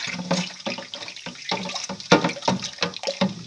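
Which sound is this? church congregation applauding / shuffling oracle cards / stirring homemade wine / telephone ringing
stirring homemade wine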